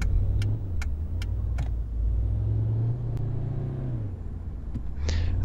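A Volvo XC90 SUV with a large-displacement, non-turbocharged engine drives in the City Car Driving simulator, giving a steady low engine rumble whose pitch rises and dips, with a few faint clicks on top.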